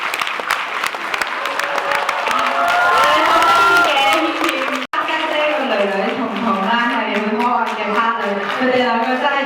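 Wedding guests at a banquet break into loud, sustained applause with cheers and whoops, a dense crowd clatter that holds steady for several seconds while voices rise and call out over it, the clapping thinning slightly toward the end.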